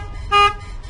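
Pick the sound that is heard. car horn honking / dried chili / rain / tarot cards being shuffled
car horn honking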